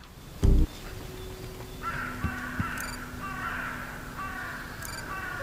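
A crow character in the video game Hello Neighbor 2 gives a series of raspy caws over a low background hum, following a sudden loud thump near the start.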